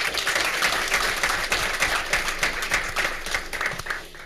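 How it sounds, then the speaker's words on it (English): Audience applause for four college inductees at a Del Mar College Board of Regents meeting: a full, dense round of clapping that holds steady and then tapers slightly near the end. "So please join me in a round of applause for all our four inductees."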